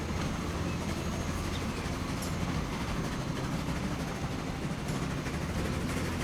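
A cargo train runs through the Transport Fever 2 game world, a steady, moderately faint rail rumble with soft wheel clatter and no voices.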